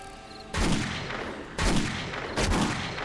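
Gunfire in the zombie survival game 7 Days to Die: three loud, heavy shots spaced about a second apart, each with a booming echoing tail, and no talking.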